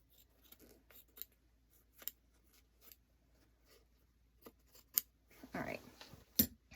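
Quiet, irregular snips and crisp cuts from scissors cutting fabric, close by, with soft rustling of material between the cuts.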